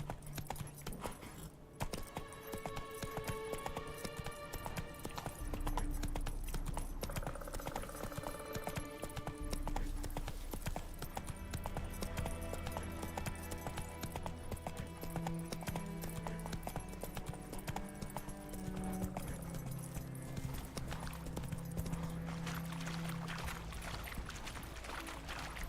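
Horse hooves clip-clopping at a steady gallop in The Witcher 3: Wild Hunt, a continuous rhythmic pounding over game music and ambience, with a brief neigh and jingling tack.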